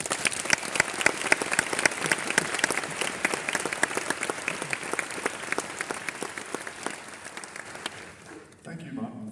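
An auditorium audience applauds to welcome Sir David MacMillan, Nobel chemistry laureate, on stage at a lecture: steady, dense clapping from many hands that continues for several seconds and thins out at the end.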